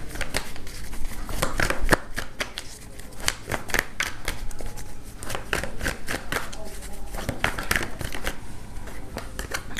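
Tarot cards being shuffled and laid out by hand, a continuous close riffle of papery flicks and slaps with sharper snaps at intervals.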